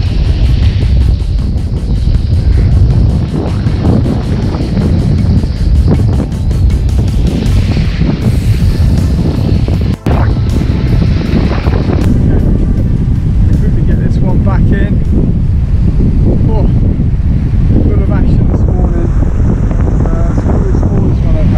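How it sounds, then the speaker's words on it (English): Heavy wind buffets the microphone continuously while bluefish fishing from shore, a loud roaring rush with gusts throughout, and faint line and water noise underneath. "blowing heavy wind, but good bluefish, just ripping some line out"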